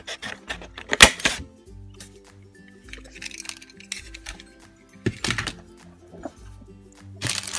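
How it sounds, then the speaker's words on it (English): Handheld hole punchers cutting through cardstock produce several sharp, close clunks and snaps spaced irregularly, with quieter handling clicks and shuffling of paper between the punches. "using some hole punchers, like these here, you guys could cut two papers"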